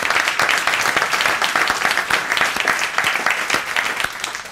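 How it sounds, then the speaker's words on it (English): Audience applause for Tim Wilson, Human Rights Commissioner, after his speech: a steady, dense wash of many hands clapping at an even level throughout, with scattered sharper individual claps standing out near the front. "He deserves a great round of applause."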